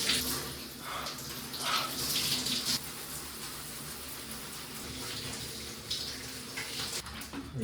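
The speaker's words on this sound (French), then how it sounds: "La douche froide qui fait du bien" A cold shower runs with a continuous spray of water splashing and hissing, strongest in the first few seconds and then settling into a steady gush close by.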